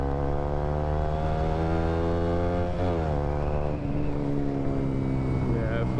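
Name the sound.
KTM RC 125cc four-stroke motorcycle engine with Aquapovic exhaust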